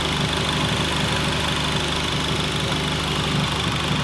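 Acura Integra engine idling with a suspected blown head gasket, a loud, steady, close rumble with even mechanical clatter and no talk.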